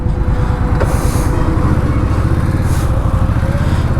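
A deep, bassy Indian Scout motorcycle engine idling and rumbling close by, steady throbbing exhaust with no one talking.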